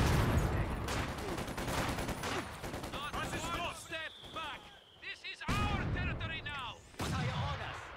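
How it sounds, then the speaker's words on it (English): Mortar fire in the strategy war game Company of Heroes 2, with repeated booming shots and crackling gunfire at moderate loudness beneath a talking commentator. "Mortar just doing work."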